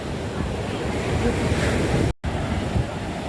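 Ocean surf at Thiruvanmiyur beach rolls in as a loud, continuous wash of breaking waves with heavy wind buffeting the microphone and a brief dropout near the end.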